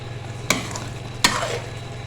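Restaurant-style korma being sautéed in a pan, a low steady sizzle broken by two sharp clacks of a spoon against the pan, no speech.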